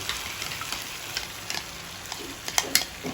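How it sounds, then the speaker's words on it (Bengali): Beaten yogurt goes into eggplant frying in a pan, giving a steady soft sizzle under scattered scrapes and taps of stirring, with a few sharper clinks near the end. "ফেটানো দইটা দিয়ে দিলাম।"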